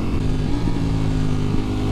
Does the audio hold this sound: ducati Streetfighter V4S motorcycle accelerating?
yes